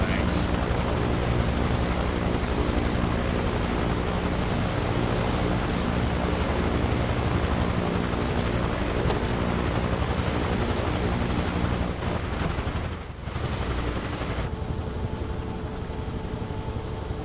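Microsoft Flight Simulator 2024 C-130 with its four propeller engines running up under throttle, a loud, steady droning roar that holds throughout and dips briefly before resuming.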